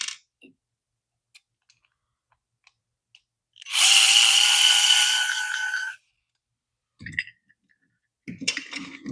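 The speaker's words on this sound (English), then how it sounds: "Take these screws out." Screws are backed out of a motorcycle carburetor with a power tool: one steady whirring burst of about two seconds, fairly close and loud, with a few small clicks and handling knocks before and after.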